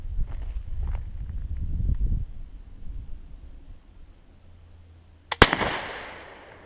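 A K98 Mauser rifle fires Persian 8mm hangfire ammunition: after a stretch of low, muffled rumbling, a single sharp, loud gunshot cracks near the end and trails off into an echoing decay.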